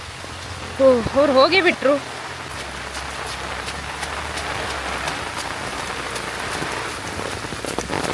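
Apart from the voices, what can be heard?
rain falling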